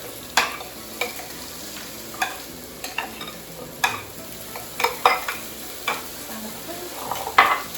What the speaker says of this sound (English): So we'll mix up our orzo with this.